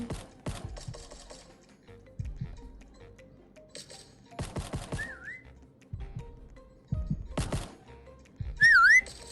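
A character whistles in a Roblox game, short wavering melodic whistle notes rising and falling near the end, heard over a busy backdrop of clicks, ticks and thumping game sounds.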